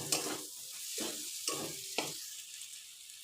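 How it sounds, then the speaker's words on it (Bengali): Potatoes sauté in a spice masala in a pan for a pitha curry, with a steady sizzle broken by about four scraping stirs of a spatula, close and clear. "আলুটা দিয়ে আর 2 মিনিট কষাবো।"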